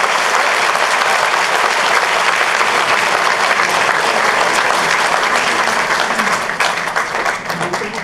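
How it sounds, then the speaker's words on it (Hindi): A large audience at the Vasantutsav 2017 cultural event bursts into loud, dense applause that holds strong for several seconds before thinning slightly at the end. "जोरदार ताली"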